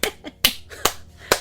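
Hands clap several times in a loose, uneven rhythm, each clap sharp and close with a short decay, like brief scattered applause.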